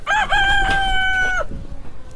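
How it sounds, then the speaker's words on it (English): A chicken in a backyard coop calls out loudly and close by, a drawn-out tonal crowing cry that fades into quieter rustling and faint clucks. "Yep, we got a hen in there."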